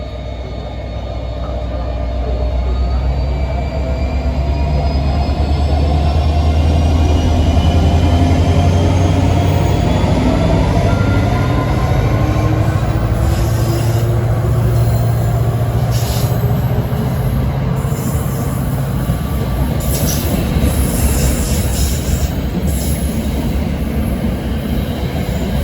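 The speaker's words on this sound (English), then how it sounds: "this is a train from Hoboken to Lake Hopatcong, west of Dover, with a PL" NJ Transit train from Hoboken to Lake Hopatcong hauled by an Alstom PL42AC diesel locomotive, a loud steady rumble of engine and rolling cars passing close for the whole stretch, with squealing wheels and clattering overhead.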